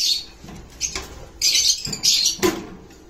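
Misty cock and hen birds in a pen give a few close squawks and chirps with brief wing flaps and rustling between them, loud bursts separated by short quiet gaps.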